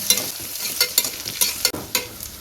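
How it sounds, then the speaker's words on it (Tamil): Small onions fry in oil for beef chukka, with a soft steady sizzle broken by a series of sharp scraping stirs of the spatula against the pan, close up and with no talking. "வெங்காயத்தை நம்ம இந்த அளவுக்கு வதக்கிட்டோம்"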